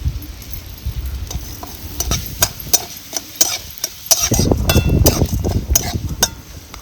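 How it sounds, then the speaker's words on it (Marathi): Urad dal roasting in oil in a pan for curry leaf chutney, with steady close sizzling and repeated clinking, scraping stirs throughout, no talk. "आता ह्याच तेलामध्ये आपण ही उडदाची डाळ भाजून घ्यायची"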